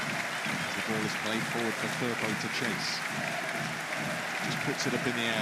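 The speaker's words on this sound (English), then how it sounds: "And still the applause continues." A football crowd in a stadium applauds with a dense, steady wash of clapping and crowd noise while a commentator speaks over it.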